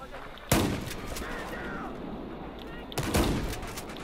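Two loud, sharp shotgun blasts from Battlefield 4 gameplay, spaced about two and a half seconds apart, each with a short rumbling tail, over a steady bed of game ambience and a player talking.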